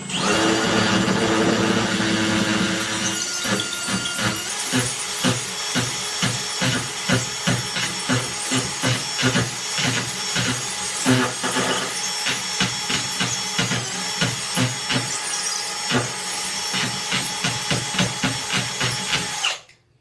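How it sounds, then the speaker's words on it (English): A power drill with a larger bit bores into wood, opening with a loud high whine that drops into a rhythmic chattering grind as the bit bites, sustained until it stops abruptly. "We'll go ahead and just use this drill bit."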